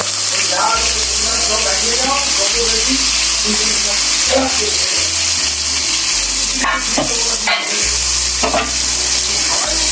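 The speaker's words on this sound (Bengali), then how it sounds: "মশলাটা ভালো করে কষিয়ে নেবো" Spices sizzling loudly and continuously in a wok with oil, bay leaves and cumin, for a restaurant-style chicken biryani, with stirring noises and a steady low tonal hum underneath.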